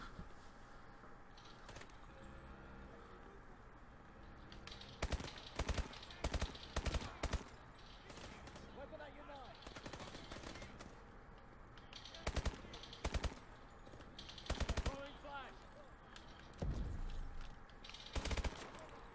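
Repeated short bursts of automatic gunfire in Call of Duty: Advanced Warfare ring out loud and close over a steady bed of game noise, with several quick volleys spread across the stretch.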